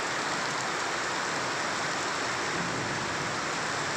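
Heavy rain pours steadily over Paknam, Thailand, heard from shelter inside a house, a dense, unbroken hiss of water drumming on surfaces with no voices.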